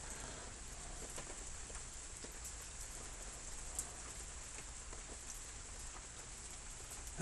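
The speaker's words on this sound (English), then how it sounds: "It needs to just keep raining like this for the next 3 months." Steady rain falls throughout, a dense, even hiss and patter with no pauses and no voices.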